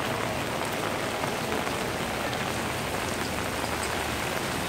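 Steady rain pours onto a residential street in Saigon's Bình Thới quarter, a dense, even hiss of drops with no voices and no breaks.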